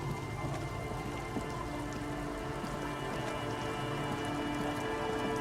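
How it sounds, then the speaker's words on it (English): Steady heavy rain in Disco Elysium, a dense continuous hiss of drops on surfaces with faint low rumbles beneath, unbroken and fairly close, with no talking. "It's still raining like a motherfucker."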